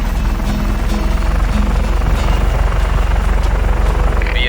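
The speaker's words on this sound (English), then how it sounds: "it really is a nice helicopter" A helicopter flies in the video game Just Cause 3, its rotor thumping steadily and loudly with a constant engine roar, close and continuous with no talk.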